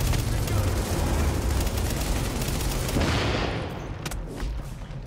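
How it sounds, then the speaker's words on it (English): Explosive-bullet gunfire in The Division: dense, continuous loud crackling bursts with heavy low rumble that ease off toward the end as a few sharp isolated shots ring out. "Explosive bullets, let's go."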